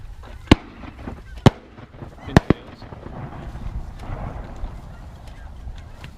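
Shotgun blasts ring out on a duck hunt on Sauvie Island: four sharp cracks, the last two in quick succession, followed by quieter outdoor rustle with low voices.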